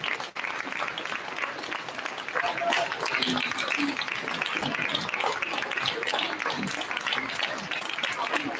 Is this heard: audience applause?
yes